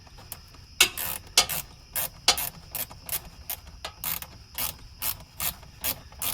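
Ratchet tightening a 10 mm bolt into plastic on a headlight during a Subaru Crosstrek install, a series of crisp close clicking bursts in quick irregular strokes against a quiet background.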